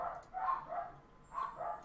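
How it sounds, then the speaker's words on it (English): Several dogs bark in quick bursts at a house on a busy street, two clusters of sharp yips and barks separated by a short pause, moderately loud and slightly distant, with no talking over them. "I do apologize for the barking"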